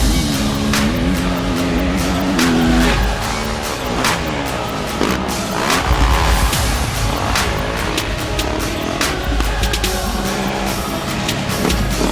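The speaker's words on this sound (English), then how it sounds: "We've assembled the 4 baddest 250F motocross bikes" Several 250F motocross bikes ride at Piru Motocross Park, engines revving loud and continuous throughout with rising and falling throttle bursts, close to the microphone and with no voices over them.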